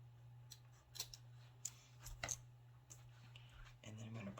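Scissors snip through a Dollar Tree craft material during a fall DIY project: a few sharp, close cuts scattered over a low, steady electrical hum, with no talking.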